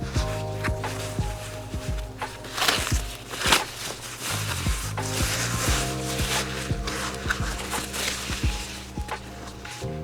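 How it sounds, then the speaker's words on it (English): Close rustling and scraping of packaging material being removed from a SHINING 3D AccuFab-F1 dental 3D printer, with crinkles, rubs and a few soft knocks amid a steady low hum. "We'll want to remove the packaging before we plug in the printer."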